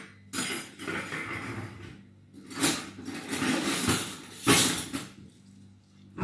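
A spoon clinking against dishes while preserving lemons in a kitchen: several bursts of clattering and scraping of utensils and crockery, separated by short quiet pauses, fairly close.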